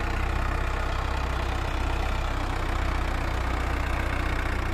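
A Mahindra Arjun tractor engine runs steadily in a field being levelled, a constant low mechanical drone with even loudness throughout and no talk.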